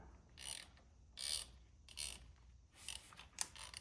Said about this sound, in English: Now I'm gonna use this 4mm Allen, and I'm gonna use this to back the motor out.